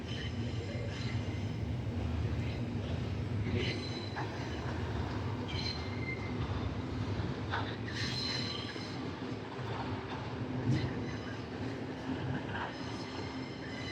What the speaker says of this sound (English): There's a passenger NGR train over there waiting for the freight train.